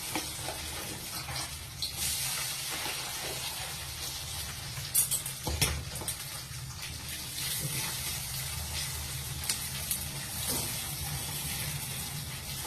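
Crispy corn fries in hot oil in a kadai, a steady close hiss of sizzling broken by a few sharper crackles and pops around the middle, with no one speaking.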